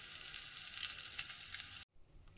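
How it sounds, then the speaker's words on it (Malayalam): Hot tempering poured onto South Kerala sadya parippu (lentil) curry gives a loud, crackling sizzle for nearly two seconds, then cuts off abruptly into near silence. "ഇനി ഈ താളിപ്പ് ഞാൻ കറിയുടെ മുകളിലേക്ക് ഒഴിച്ചു കൊടുക്കാൻ പോവുകയാണ്"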